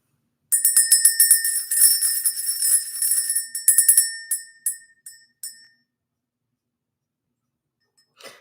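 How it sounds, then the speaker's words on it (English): A bell rings in a rapid run of bright metallic strikes for about three seconds, then tapers into a few separate dings before falling silent, close and clear with no talk. "Let's ring the bell."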